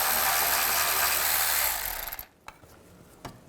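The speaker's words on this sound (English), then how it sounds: "I'm going to use a 10mm socket." A ratchet wrench with a 10mm socket loosening the bolts on a front shield of a 2011-2014 Chrysler 200, a loud close buzzing clatter for about two seconds, then silence broken by two sharp metallic clicks.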